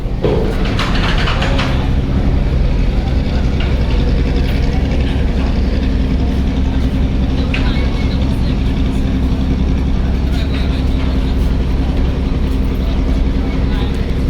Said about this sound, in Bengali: এমবি ফারান সাত লঞ্চ ব্যাক গিয়ার দিয়ে যাচ্ছে